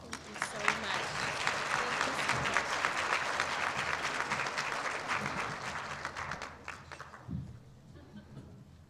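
An audience at an award gala applauds, a dense wash of clapping from a large crowd that holds steady for several seconds and then thins out, with some speech mixed in.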